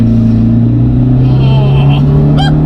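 An Abarth with a stage 2 exhaust and big turbo pulls hard in third gear, a loud steady engine drone rising slightly in pitch throughout, with a voice reacting over it near the end.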